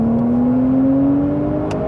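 A Porsche 992 911 with an APR tune accelerates, its engine note climbing steadily in pitch as a smooth, loud, continuous drone heard from inside the car, with no talking.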